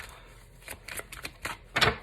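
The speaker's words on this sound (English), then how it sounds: "So I'm just going to keep shuffling" Tarot cards being shuffled by hand, a series of soft, irregular riffling taps at close range, ending in a louder snap of cards.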